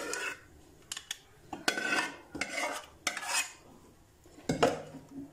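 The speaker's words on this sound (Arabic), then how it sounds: "هقلب الصلصه كويس" A spoon stirs tomato sauce for an Egyptian baked pasta casserole. It makes a string of irregular clinks and scrapes against the pot, with quiet pauses between the strokes and no talking.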